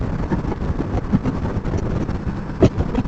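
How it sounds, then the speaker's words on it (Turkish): Steady, loud wind buffeting roars continuously during a ride on a Honda VFR800X Crossrunner motorcycle, with occasional sharper gusts rising above the rushing noise. "Bu arada hava inanılmaz rüzgarlı."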